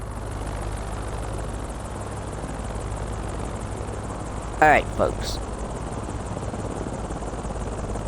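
Helicopter flying in Microsoft Flight Simulator: a steady, droning rotor and engine hum runs unbroken through the whole stretch, with someone briefly speaking over it near the middle.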